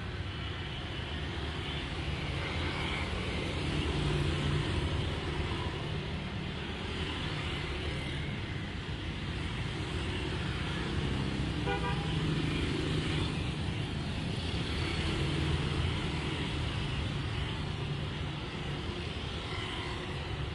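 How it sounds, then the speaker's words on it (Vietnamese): Engines from heavy motorbike and car traffic drone continuously on a busy street near the Nguyễn Tri Phương bridge in Ho Chi Minh City, with a brief horn-like tone mid-clip rising above the constant road noise. "Xe cộ càng lúc càng đông."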